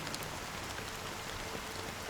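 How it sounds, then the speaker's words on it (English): Steady rain pours down in the Honkai: Star Rail video game, a dense, even hiss of drops on surfaces that stays constant and close throughout, with no voices. "it's still raining."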